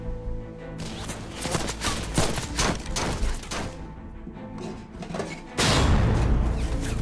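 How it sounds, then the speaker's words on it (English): German forces pour gunfire in from all directions, a dense barrage of cracks and booms that swells and thins, then gives way to a heavy, sustained roar near the end. "German forces open fire on them from all directions."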